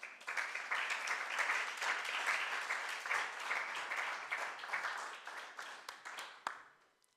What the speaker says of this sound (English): I hope you heard the applause, Christoph.